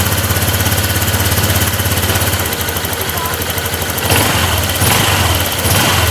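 Honda Click scooter engine running close by at idle, a loud steady buzzing putter that shifts slightly in pitch partway through, with some background noise.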